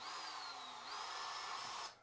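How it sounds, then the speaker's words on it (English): A power drill whines steadily as it bores mounting holes for 2-inch window blinds, its pitch dipping under load and then recovering, with a near, continuous drone that stops abruptly at the end. "We're going to drill in these holes."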